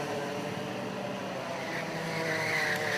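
Racing karts at the British Universities Karting Championship buzz past, a steady engine drone with a rising whine toward the end as one draws nearer.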